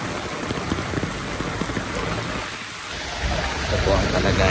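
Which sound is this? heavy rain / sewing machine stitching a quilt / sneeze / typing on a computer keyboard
heavy rain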